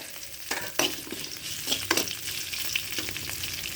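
Curry leaves crackle and sizzle as they drop into hot oil for a buttermilk moru curry, a steady frying hiss with sharp pops spread through the clip and no talking.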